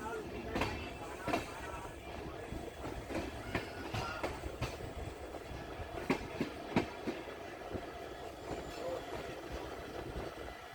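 Pune–Ernakulam express train pulling out, wheels clattering over rail joints in irregular clacks and knocks beneath a steady rumble, heard from aboard at moderate level.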